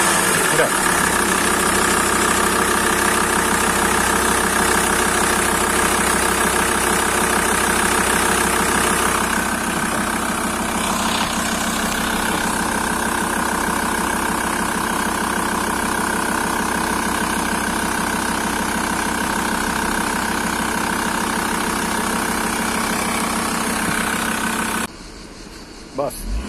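A Volkswagen Transporter T4 with a 2.5 TDI diesel engine and a traction fault idles steadily with a low, even rumble that runs loud and unbroken for most of the stretch before cutting off near the end, with brief voices over it.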